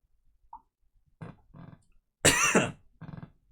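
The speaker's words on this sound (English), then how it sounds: "we'll keep on coughing" A man coughing in a quiet room, a few short dry coughs followed by one louder, harsher burst and a final rough cough, close to the microphone.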